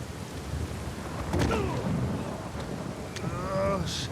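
Thunderstorm in the video game Uncharted 4: a rumbling roll of thunder over steady rain and wind, with short sharp cracks and a voice talking briefly over the storm.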